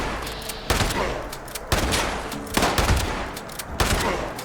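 Black powder weapon fire in Fallout 76, with four heavy, booming shots spaced about a second apart over continuous battle noise.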